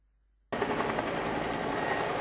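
Police helicopter over Mestre during a large police operation near the station, a loud continuous rotor and engine roar that starts suddenly and holds steady.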